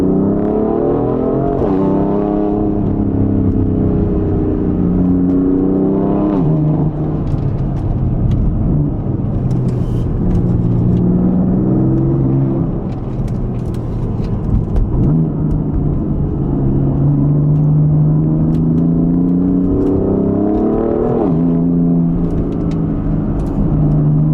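A BMW F80 M3 engine revs repeatedly, climbing and falling in pitch through several loud, close surges over a continuous mechanical drone.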